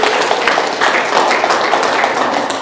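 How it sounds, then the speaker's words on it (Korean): A church congregation claps for the Sunday school children during a service. The clapping is loud, dense and continuous, close and unbroken, with no talk over it. "주일학교 어린이들에서 박수 한번 쳐주시고"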